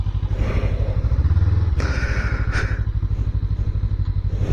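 A small, fuel-efficient motorcycle idles steadily close by in the UK, its engine thumping in an even, rapid rhythm with one brief mechanical clunk partway through.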